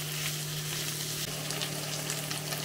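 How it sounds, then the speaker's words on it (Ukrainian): Chopped meat sizzles and fries steadily in a pan with softened onion for Ukrainian dolma, a continuous close, even crackle with a low hum underneath and no talking. "Додаємо нарізане м'ясо. І також обсмажимо хвилин"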